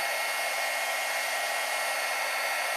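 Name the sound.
heat gun blowing on iridescent ice craft technique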